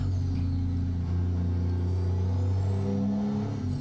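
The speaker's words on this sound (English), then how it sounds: "my favorite sounds is the Z-Mods DD60" A Z-Mods DD60 truck engine in American Truck Simulator, fitted to a Kenworth W900, hums as a steady low, rumbling drone with a faint whine above it, heard alone for a few seconds.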